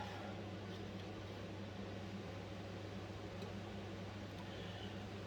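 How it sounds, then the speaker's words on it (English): A kitchen extractor fan runs in a home kitchen, a faint, steady hum with a low droning tone that continues unbroken and alone. "I have to put the extractor on again"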